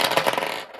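Six dice tumble and rattle across a surface during a home board game, a dense burst of clattering clicks for most of a second before fading out, close and fairly loud with no talking.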